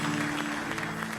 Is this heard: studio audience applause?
yes